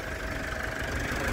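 Diesel engine of a 2011 Mitsubishi Strada Triton Exceed 4x4 idles with a steady, even low rumble, heard close and alone.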